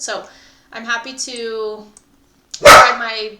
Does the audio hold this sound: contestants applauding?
no